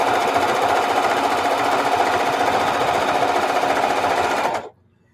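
A sewing machine stitches binding onto a quilt in one loud, rapid, steady run of close mechanical chatter that stops abruptly near the end.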